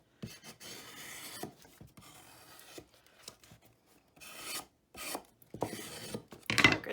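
Paper being burnished down onto a mini album, heard as close, dry rasping rubs in repeated short strokes with brief pauses between them, louder passes near the end.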